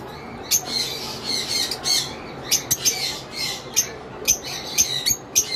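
Caged lovebirds for sale let out repeated sharp, harsh squawks in irregular bursts, close and fairly loud, over a low background hum.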